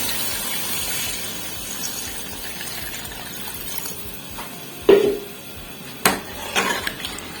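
About a litre of water is poured into fried masala in a cooking pot for beef nihari, a soft gush joined by a few sharp metallic clanks of the pot and utensils near the end.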